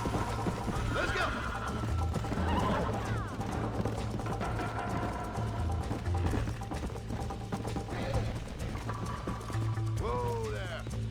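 A horse in the video game Red Dead Redemption whinnies several times over steady clip-clopping hooves, with game ambience and a voice speaking in the background.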